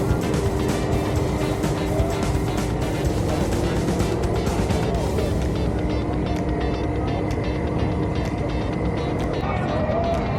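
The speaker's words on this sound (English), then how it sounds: "We had a bunch of dynas here just ripping, doing burnouts, doing wheelies." Harley Dyna motorcycles roar continuously at a stunt show, a dense loud rumble of engines with crowd noise mixed in.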